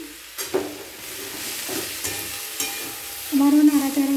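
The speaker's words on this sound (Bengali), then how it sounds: "মশলার সঙ্গে বাঁধাকপি ভালো করে নাড়াচাড়া করে নেব।" Cabbage stirred with spices in a frying pan, steady sizzling with scraping stir strokes and a few knocks, ending in a short louder burst of sound.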